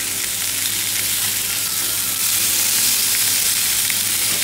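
Thin slices of beef tenderloin fry in a pan with a loud, even, continuous sizzle that carries on unbroken and alone.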